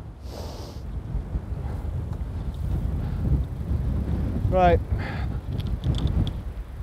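Strong gusts buffet the microphone at Crook Golf Club, a steady low rumble of wind noise running throughout, with someone speaking briefly over it.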